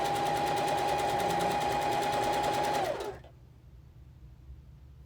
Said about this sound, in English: Let's sew this together.